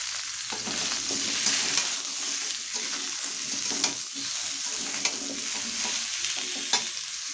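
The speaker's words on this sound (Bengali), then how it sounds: "ফুলকপিটা হালকা করে একটু ভেজে নেব" Cauliflower and potato pieces frying in oil previously used for frying fish, with a steady sizzle and repeated scraping stirs throughout, close and even, no talking.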